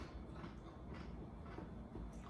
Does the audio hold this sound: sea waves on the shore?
no